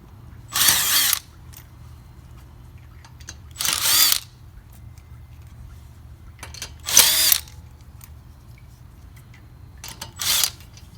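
Power tool spinning wheel lug nuts off a 2007–2011 Honda CR-V during 100,000-mile maintenance, four loud close whirring bursts about a second each, separated by quiet gaps with faint clicks, no talking.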